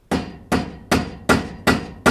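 Six sharp, evenly spaced rubber hammer blows strike a ball joint on a Toyota Tundra's front suspension in a steady rhythm, each a dull thud with a brief ring, close and loud.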